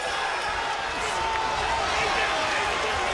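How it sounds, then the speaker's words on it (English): A boxing crowd in Long Beach keeps up a dense, steady roar of cheering and shouting, loud and continuous throughout, with an announcer's voice partly buried in it. "And this crowd is into it."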